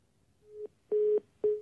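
After a phone call is cut, a telephone line gives three short electronic beeps, quiet and evenly spaced, the middle one held a little longer.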